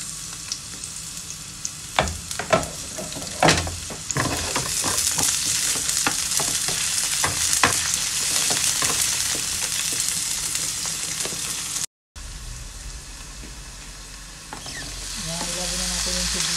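Onions sauté in a pan with a loud, continuous sizzle and crackle, with clattering utensil strokes early on. A brief cut near the end is followed by a quieter, steady frying hiss.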